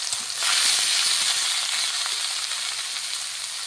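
Goat offal sizzles steadily in a small amount of hot oil with turmeric and salt, a bright, continuous frying hiss that swells after a quiet start and holds close and loud without talk.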